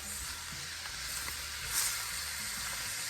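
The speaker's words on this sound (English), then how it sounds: "allow this to fry and cook through with the saltfish" Saltfish and vegetables frying in a pan give off a steady, close sizzle with a constant hissing spatter and a brief louder flare partway through.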